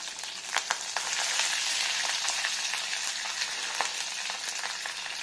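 Thinly sliced long-cut garlic and curry leaves sizzle in hot oil for a peanut curry, a dense, steady frying hiss close up with a few sharp crackles and pops, no voices.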